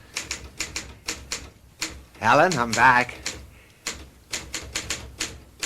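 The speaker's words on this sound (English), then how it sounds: "will you knock it off with the typing and look at me" Manual typewriter keys clacking in an irregular rhythm, close and fairly loud, with a short spoken line breaking in partway through in a radio mystery drama kitchen scene.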